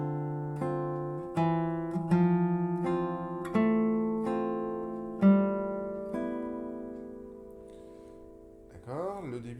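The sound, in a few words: guitar melody with barre accompaniment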